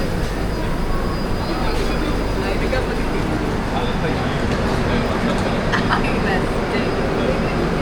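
A train rumbles steadily at a railway platform in Kerala, with loud continuous low machinery and track noise, faint clanks and squeals, and background crowd sounds throughout.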